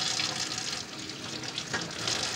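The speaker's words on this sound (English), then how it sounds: "And I'm washing the potatoes" Tap water runs steadily into a sink as potatoes are washed for a crab boil, a close, continuous splashing hiss with no speech.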